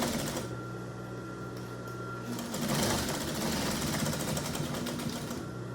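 Sewing machine stitching an apron, a steady rapid mechanical whir with a continuous motor hum that grows slightly busier midway, close, with no talking.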